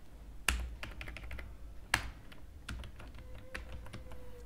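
Code being typed on a computer keyboard, quiet irregular clicks with a couple of sharper heavier key strikes, close up and without speech.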